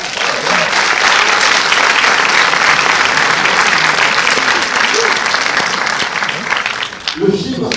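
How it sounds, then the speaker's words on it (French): A cinema audience at the Gaumont Opéra breaks into loud, dense sustained applause that fills the room, then tapers off near the end as voices emerge. "Angélique et toute l'équipe du Gaumont, que vous pouvez applaudir s'il vous plaît."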